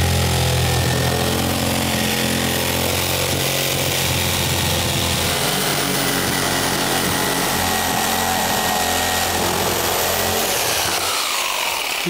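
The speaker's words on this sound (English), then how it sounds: "All right, bring my jigsaw over, set the blade in that hole." Jigsaw cutting out a hole during a kitchen remodel, its blade started in a drilled 3/8-inch hole; a loud, continuous buzzing whine holds steady throughout, close up with no talk.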